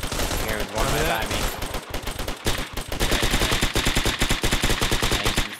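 An MG-42 machine gun in the World War II shooter Hell Let Loose fires loud, rapid bursts that become a steady, buzzing stream of close gunfire, with more shots mixed in during the first seconds.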